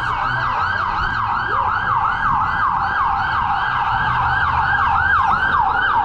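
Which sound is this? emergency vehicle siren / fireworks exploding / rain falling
emergency vehicle siren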